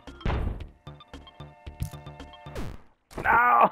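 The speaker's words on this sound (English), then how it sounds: "Oh yes, the cannons." Cannons fire in the platformer game Dadish, heard as a series of quick thudding booms and knocks mixed with other game effects, closing on a brighter chiming jingle.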